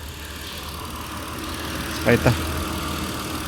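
A Mitsubishi Pajero engine idles in a steady low hum, with a brief spoken word partway through.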